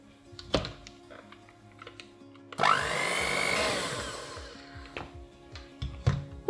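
An electric mixer whirs steadily through cake batter of flour and milk for a cherry sheet cake, a loud sustained buzz lasting a few seconds between softer clinks and knocks of the bowl.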